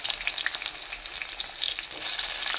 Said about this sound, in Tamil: வெங்காயம் வதக்கிட்டு கிரேவி செய்யலாம்னு சொல்லிட்டு இதுங்க வதங்கட்டும்